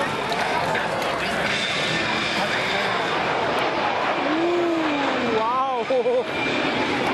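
A military jet roars past at an air show, a loud broad rush with a rising and falling whine that stays strong the whole time, while a commentator and crowd voices are heard and someone exclaims.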